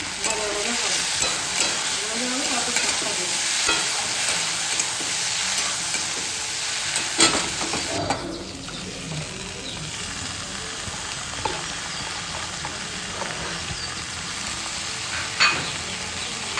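Fenugreek greens (methi shaak) frying in a pan with a little salt, giving a continuous close sizzle with scraping stir strokes and occasional clatter, steady throughout and heard alone with no talking.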